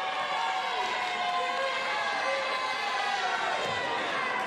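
A packed high school basketball gym at West Middlesex High School during a game against the Farrell Steelers, where a continuous roar of crowd noise and cheering fills the room beneath close-up commentary.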